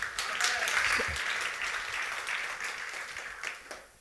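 A church congregation applauding in praise during a sermon, giving a dense, steady wash of clapping that fades slightly toward the end, with voices mixed in.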